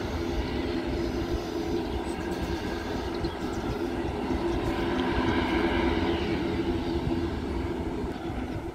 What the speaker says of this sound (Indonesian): sudah mulai ada Wings Air lagi, sudah keluar dari area parkir menuju landas Pacu mengarah ke selatan